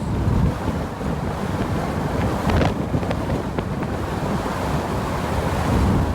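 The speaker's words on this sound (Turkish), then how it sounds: "şimdi de Victoria'nın başka bir şelalesindeyiz" Steady roar of rushing water from a waterfall in Victoria, Australia, broadband and continuous at close range, mixed with wind buffeting the microphone, with no voices.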